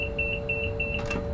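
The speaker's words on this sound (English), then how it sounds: "If you don't touch the power brake controller for a certain period of time, this alarm will sound." A driver vigilance device alarm sounds in a Class 350 or 390 train cab in Train Sim World 5, a rapid series of high, evenly pulsed electronic beeps over a steady cab hum.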